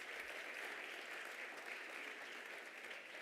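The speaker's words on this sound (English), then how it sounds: "I would like us all to just give ourselves a round of applause" Steady, even applause from an audience at a faculty of education dean's merit awards ceremony, honoring the awardees; dense clapping sustained at a consistent level throughout, somewhat distant and diffuse, with no voices standing out.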